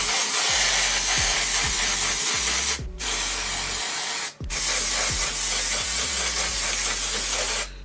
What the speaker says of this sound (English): So now I'm just gonna grab this spray.